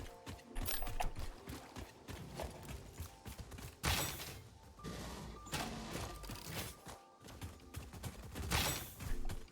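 Enemies fire guns at the player in the video game HydroCrude Point. Rapid volleys of shots come in bursts with short pauses between them, mixed with mechanical clatter.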